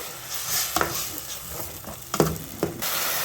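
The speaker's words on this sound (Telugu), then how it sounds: "ఈ 2 టమాటాలు పెద్దవి. దీంట్లో నుంచి కూడా ఆయిల్ పైకి వచ్చే వరకు ఆయిల్లో ఫ్రై చేద్దాము." Tomato paste made from two large tomatoes fries in oil with a steady sizzle, overlaid by a few sharp scraping stirs and clacks of a utensil against the pan.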